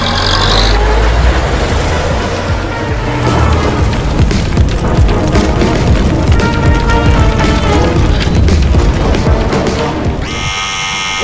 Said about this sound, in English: do you hear that explosion?